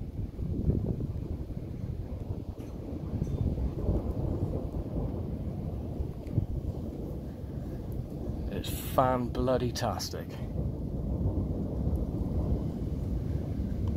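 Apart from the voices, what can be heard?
rumbling thunder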